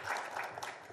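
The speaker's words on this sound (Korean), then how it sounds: "박수." A brief burst of audience applause at a panel discussion forum, dense close clapping filling the whole short moment.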